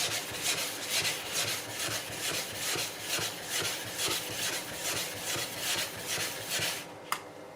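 High-hardness ceramic sharpening stone rubbed back and forth across a Maxi-smart Lapping Plate 2.0, a steady rhythmic gritty rasping at close range that stops abruptly near the end with a single small knock.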